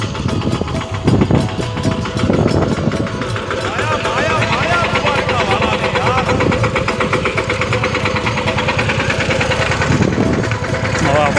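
A tractor engine idles close by, a loud, steady chugging with an even rhythm that runs through the whole stretch while voices talk over it.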